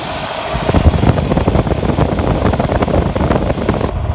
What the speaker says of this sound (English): We put a distributor cap, rotor button, and plug wires on it, and it fired right up.